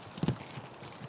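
Footsteps in the video game Escape From Tarkov, a few soft thuds close together early on, then faint scattered steps over a quiet background.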